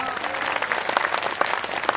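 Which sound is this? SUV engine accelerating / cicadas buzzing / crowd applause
crowd applause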